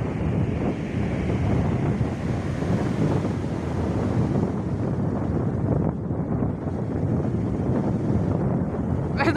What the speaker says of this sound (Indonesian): Ombaknya sangat gede